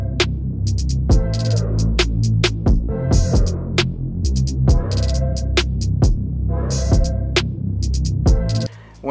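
A rotary cutter ports a Yamaha FZ1 cylinder head, giving a steady high-speed grinding whine near the microphone, broken by sharp repeated clicks and scraping bursts as the bit works the metal.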